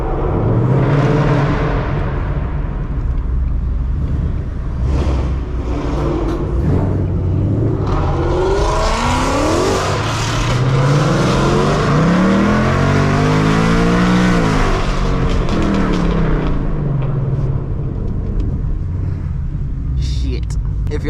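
A loud, throaty Mustang engine with a Whipple 3-liter supercharger revs hard with rising and falling roars and a heavy rumble, with voices in the background, in downtown Detroit.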